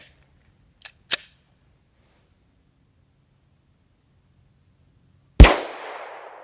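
Two faint clicks come first, then one sharp, loud gunshot from a 10mm pistol loaded with 220 grain Buffalo Bore hard cast rounds, ending in a short decaying echo that otherwise stands alone in near silence.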